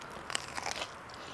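A crispy breaded and fried potato croquette with melting cheese, bitten in Milan, gives a few quick, close crunches over about a second, with no talking.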